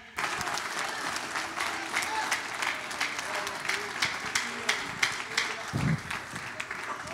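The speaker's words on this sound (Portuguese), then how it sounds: "dê um aplauso ao Senhor" A church congregation at an anniversary service applauds, sustained dense clapping that carries steadily throughout, with scattered voices and a few sharper claps toward the end.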